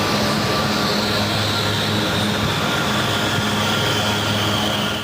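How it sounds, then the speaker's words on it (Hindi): Fighter jets fly overhead at the Aero India 2017 air show at Yelahanka Air Base, Bengaluru, making a loud, continuous broadband roar that stays steady and dense throughout, with no voices. "आसमान में बादलों को चीरकर उड़ते हैं फाइटर जेट हिंदुस्तान की शान है।"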